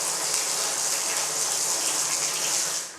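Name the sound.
water running from a luxury tap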